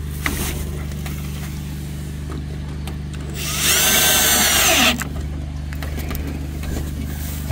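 A power drill whirs for about a second as it drives a screw into a vintage camper with water damage, a loud rising burst over a steady low hum of background noise.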